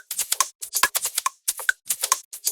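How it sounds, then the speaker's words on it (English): Crisp, dry wooden clicks strike in a quick rhythmic pattern, short bright hits falling into a steady beat pattern. "Then we add the snare in down here, good old wood block."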